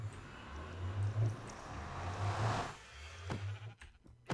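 Sheep in the Minecraft video game give several low, buzzy bleats in a row, moderately loud over quiet game ambience, followed by a few sharp clicks.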